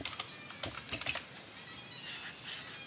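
Quick taps on a keyboard enter text in a mobile video editing app, with a few close, crisp clicks in short bursts followed by quieter background noise and no talking.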